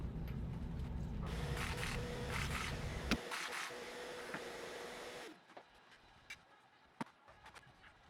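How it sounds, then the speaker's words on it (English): A Milwaukee Surge 12-volt impact driver sinks pocket screws into wooden dividers for a camper build, a loud continuous whirring run that cuts off, then a second quieter burst and a few knocks and clicks. "Decided to try out my new little 12-volt Milwaukee Surge impact driver."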